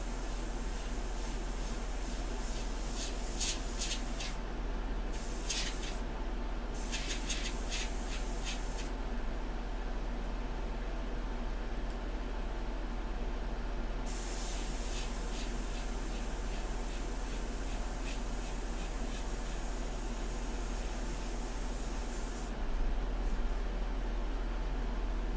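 Airbrush spraying India ink, a soft steady hiss of air lying under a constant low hum, with brighter bursts of spray coming in and cutting off several times.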